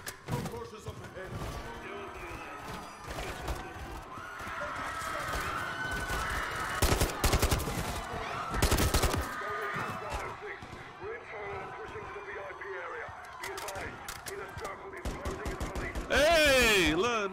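Full-auto bursts from the Hurricane gun in the Modern Warfare 3 campaign, loud rapid gunfire clustering in dense volleys between about 6 and 9 seconds amid other game action, with a player talking over much of it.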